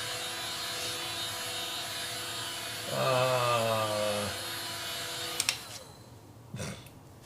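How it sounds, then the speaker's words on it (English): A Ryobi heat gun blows with a steady, loud fan whoosh during a Ghostbusters proton pack build, a tonal whine swelling midway before the tool cuts off and leaves a few faint knocks. "Ryobi Heat Gun time."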